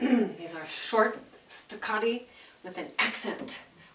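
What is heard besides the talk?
No distinct noise like a dog, phone or traffic.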